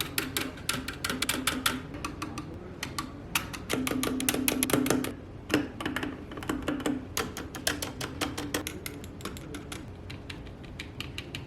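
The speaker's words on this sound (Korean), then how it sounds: "스페이스바 상하 좌우를 여러 번 쳐서 확인해보니" Spacebars of several mechanical keyboards struck repeatedly top, bottom and sides, with metal stabilizers giving a rattly clack; sharp irregular taps close up, some in quick flurries, no talk.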